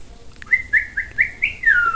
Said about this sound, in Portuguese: Que passarinho é esse?